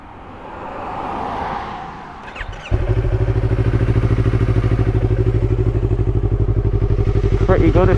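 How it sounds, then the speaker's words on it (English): Yamaha MT-03 2017 motorcycle fitted with an aftermarket exhaust, a loud close idle beginning after a rushing start, then a steady rapid pulsing rumble through to the end with a quick blip near the finish. "when you put this on, completely transforms it. Like, the exhaust pops and everything, and it makes it sound like a much bigger bike"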